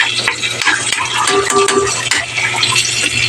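Milkfish stir-fries with garlic, ginger and onion in a pan, giving a loud, close sizzle broken by frequent spatula scrapes and clinks as the ingredients are tossed.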